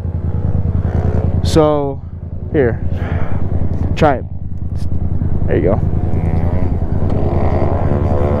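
A motorcycle engine idles steadily, its low rumble continuous as a new rider lets the clutch out, with people talking closely over it throughout.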